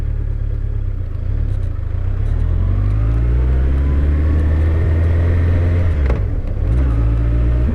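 Honda CB1100 motorcycle riding on a main road: a loud, steady engine drone with smooth rising pitch as it accelerates, strong low rumble throughout, a brief shift dip near the end.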